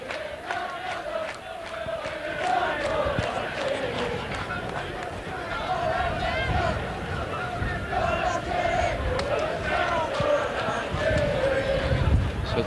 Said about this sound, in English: As the crowd come to life